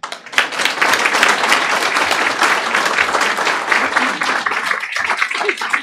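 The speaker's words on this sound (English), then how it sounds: "Let's give them a big round of applause." Lively applause at a school district board meeting, dense clapping from a sizable room that holds steady and loud for several seconds before thinning slightly at the end.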